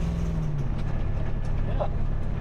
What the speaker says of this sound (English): The fuel pump's louder than the exhaust